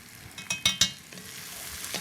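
A spoon scrapes and stirs flour into a sizzling pan of coq au vin, with a few sharp clinks against the pan over a steady frying hiss.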